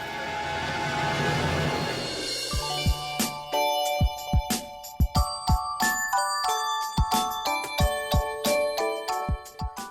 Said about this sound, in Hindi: चंदा फोन क्यों नहीं उठा रही है?